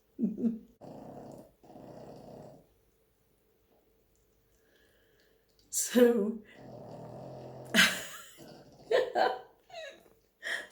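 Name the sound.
dog snoring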